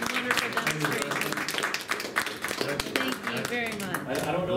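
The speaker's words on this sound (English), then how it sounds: "a huge round of applause for Adam's wonderful demonstration" Audience applause following a mold-making demonstration, a steady patter of many hands clapping at close range with voices talking over it throughout.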